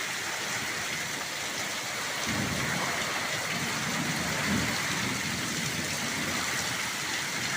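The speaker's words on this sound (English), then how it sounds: "Heavy thunderstorm has started" Heavy thunderstorm rain pours steadily onto a roof during a blackout, a dense continuous hiss that swells slightly after the first couple of seconds with low rumbling thunder mixed in, close and unbroken throughout.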